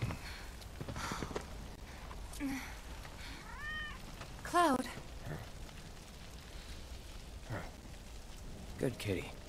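A cat in Final Fantasy 7 Remake gives a few short rising meows amid light ambient noise and footsteps, moderately close, with voices talking briefly around them.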